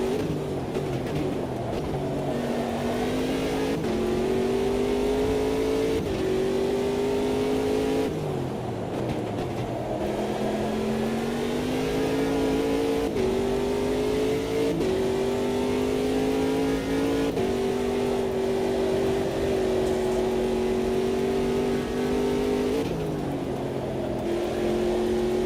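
A race car engine revs and shifts through gears repeatedly in Automobilista 2 sim racing, a steady, close, continuous drone rising and dropping in pitch with each shift.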